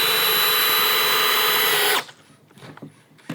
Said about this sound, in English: I'm gonna show you guys how it drills in this Fasten Master ledger lock.